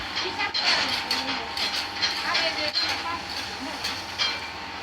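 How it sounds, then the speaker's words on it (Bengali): A puffed rice (khoi) roasting machine in Saturia, Manikganj runs with a steady, loud mechanical rumble and hiss, broken by rattling, clattering bursts. "দেখুন এখানে কত সুন্দরভাবে খই ভাজা হয় মামুন ভাইয়ের এই মেশিনে"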